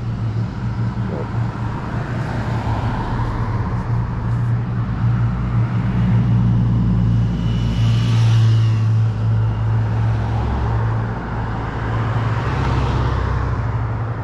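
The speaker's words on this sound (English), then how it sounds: "Lots of traffic this time of day." Steady road traffic streams past at a busy crossing while school lets out, a continuous loud wash of engines and tyres with vehicles swelling closer around the middle, no talking.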